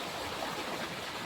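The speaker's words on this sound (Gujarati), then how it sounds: "કેવું મસ્ત પાણી આવે છે" Irrigation water gushes steadily into a farm field plot, a continuous broadband rushing like a small stream, close and moderately loud with no talk over it.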